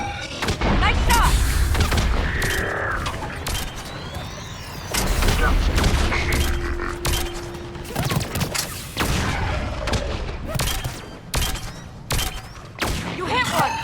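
Rapid gunfire and heavy booming blasts from a Mass Effect 3 battle come in dense, loud volleys with thuds and explosions throughout. Game dialogue sounds in brief moments between the shots.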